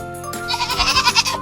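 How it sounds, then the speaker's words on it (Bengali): A goat lets out one loud, close bleat with a wavering, quavering tone that lasts just over a second, heard alone with no other sounds around it. "G for goat"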